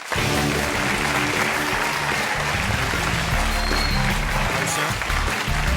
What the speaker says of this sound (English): Ladies and gentlemen, round of applause for our first mystery guest.